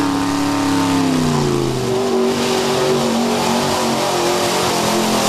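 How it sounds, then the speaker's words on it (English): A large Chevy crew cab off-road truck engine revs hard at a 4x4 truck show flood run, loud and close, with pitch sliding down then holding a steady roar under continuous noise. "So you see that huge Chevy crew cab, a little underpowered for the flood run, but spectacular piece to see nonetheless."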